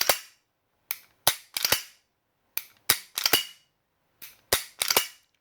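A ViS 100 M1 replica pistol dry-fires repeatedly, sharp close metallic snaps in pairs and clusters of three or four separated by short pauses, with no talking.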